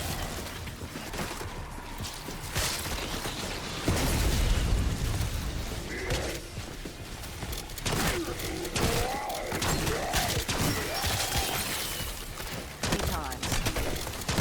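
Gunfire and explosions from the Black Ops 6 Zombies mode on the Liberty Falls map, including wonder weapon fire, dense and continuous with repeated booms and bursts over a busy game soundscape.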